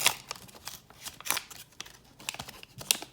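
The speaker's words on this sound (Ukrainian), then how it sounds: "Відкриваємо пакетик. Що у нас тут? Пакетик бумажний." A paper packet of McDonald's Pokemon cards is torn open, crinkly rustling and tearing close by, a series of short crisp bursts with quiet gaps, no talking.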